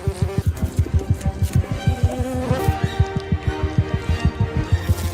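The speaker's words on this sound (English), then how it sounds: "Bees." A swarm of bees buzzes in a tree where they tend treehoppers, a dense, continuous hum with rapid pulsing wingbeats, close and steady throughout, with no talk.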